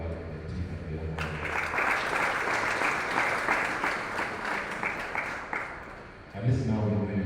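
A health assembly audience claps together in a full, sustained burst that swells after a brief voice, then fades as talking returns near the close.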